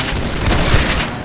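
Rapid gunfire in the Roblox shooter game Arsenal: a loud, dense, continuous burst of overlapping shots and booms filling the whole moment, close and harsh.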